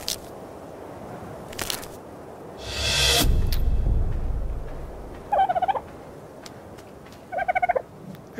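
Bird calls from the dodo in the video game ARK, a gobbling, fowl-like cackle in two short bursts, preceded by a brief crunchy bite sound and a louder scuffle over a low background hum.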